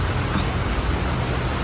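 Heavy rain pours steadily in Gold Coast, Australia, a dense, unbroken broadband hiss that holds even and loud throughout, with no voices over it.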